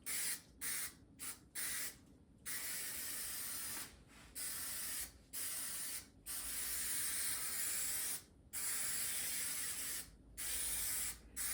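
Repeated bursts of spray adhesive hissing from an aerosol can onto a truck's rear window area, several short and long sprays separated by brief pauses, close and fairly loud.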